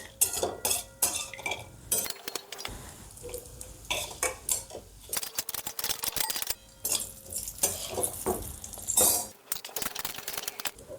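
Red chilies and coconut roasting in oil in a pan: close, rapid metallic clanks and scrapes of a spatula against the pan in irregular bursts, with a few short pauses and no talking.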